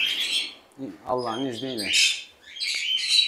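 Sun conure parrots at a breeding facility in Bursa give shrill, bright squawks and screeches in bursts. Someone speaks briefly partway through, close to the birds.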